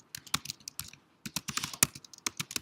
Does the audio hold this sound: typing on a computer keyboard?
yes